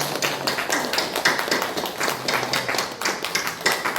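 A church congregation applauds during a Sunday worship service: dense, steady clapping carries through the whole stretch at full loudness, with a faint murmur of voices underneath.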